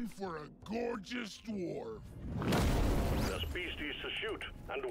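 Explosions in the Deep Rock Galactic: Survivor video game come as a loud, rumbling blast after a stretch of talking, followed by busier game effects with more speech.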